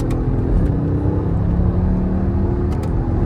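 A tuned V8 BMW accelerates hard in paddle shift mode, a loud, steady deep engine roar with a rising low rumble heard close from inside the car, alone.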